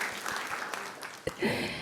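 Audience applause at a keynote talk, heard as a soft, continuous wash of clapping from a crowd at some distance, with a faint voice rising briefly near the end.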